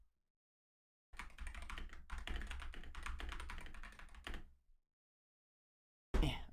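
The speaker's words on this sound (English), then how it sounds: "Does it sound like clickier?" Clicky computer keyboard typing runs in a dense, continuous burst for about three seconds, close up, with a brief sharp knock after a pause.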